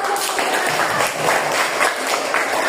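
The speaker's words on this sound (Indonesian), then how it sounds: "Tepuk tangan dulu." Classroom clapping from a group of students, a steady patter of many hands at moderate loudness lasting a few seconds with no talk over it.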